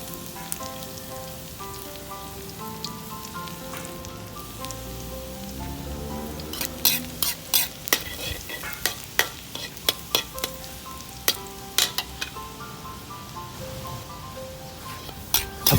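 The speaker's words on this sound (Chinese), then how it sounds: "先煎一下我们的大蒜" Garlic fries in oil in a wok with a continuous crackling sizzle, joined midway by a rapid run of sharp pops and spatters that come in irregular bursts.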